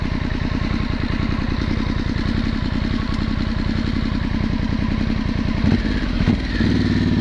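A Harley-Davidson Sportster S engine chugs with a heavy, lumpy rhythmic beat at steady revs, loud and near, briefly blipping the throttle toward the end.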